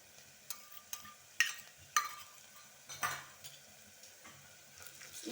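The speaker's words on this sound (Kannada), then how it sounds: "ಈಗ ನಾನು ಜಿಂಜರ್ ಗಾರ್ಲಿಕ್ ಪೇಸ್ಟ್ ಹಾಕ್ತೇನೆ ಫ್ರೆಂಡ್ಸ್" Ginger garlic paste fries with onions in a pot for a one-pot chicken biryani: a soft, quiet sizzle broken by a series of sharp utensil clinks and scrapes against the pot.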